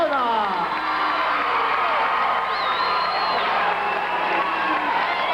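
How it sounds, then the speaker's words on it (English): A capacity arena crowd roars and cheers for a new Intercontinental Heavyweight wrestling champion at a 1984 WWF event, a loud continuous wall of whoops and shouts with scattered applause throughout. "Santana with a tremendous hand from this capacity crowd."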